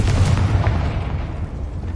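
Confringo blasting spell exploding in a video game, a loud, deep boom with a heavy low rumble that decays over a couple of seconds.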